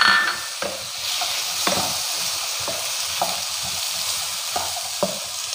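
Ivy gourd and chopped green mango are stirred in hot oil in a pan, giving a steady sizzle broken by sharp spoon scrapes and taps every second or so, close up with no talking.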